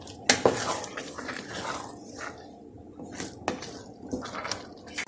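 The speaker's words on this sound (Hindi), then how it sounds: "अभी मैं गाजर के हलवे को भून रही हूँ अच्छी तरह" Carrot halwa being roasted and stirred in a cooking pan, with a spoon scraping and clinking against the metal in irregular strokes, close up, moderate in level, with no voices.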